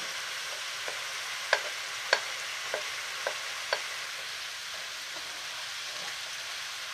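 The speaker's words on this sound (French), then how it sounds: "Je rajoute maintenant mes petits légumes." Vegetables stirring in two or three spoonfuls of olive oil in a pan for a vegetarian stuffed cabbage, a soft steady sizzle broken by a few sharp scraping clicks of the spoon, close and quiet, with no talking.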